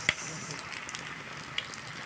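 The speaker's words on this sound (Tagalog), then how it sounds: "Prito na tayo. Naprito na natin." Quiet, steady sizzle of bean sprout spring rolls frying in oil, with a few faint pops and crackles scattered through.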